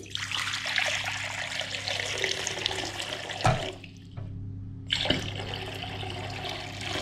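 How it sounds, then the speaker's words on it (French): Water poured from a tap or container into a salad bowl while making slime, a steady close splashing stream that briefly stops and restarts, with no talk. "on va commencer à vider de l'eau dans notre saladier"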